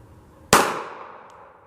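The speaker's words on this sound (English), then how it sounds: "I brought my 380 with me, and I can afford to shoot 1 bullet out of it." A single sharp shot from a .380 pistol fired at a can of shaving cream outdoors, one loud crack with a short ringing decay and nothing else around it.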